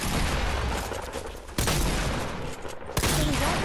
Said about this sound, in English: keep shooting, Desi. Don't stop shooting.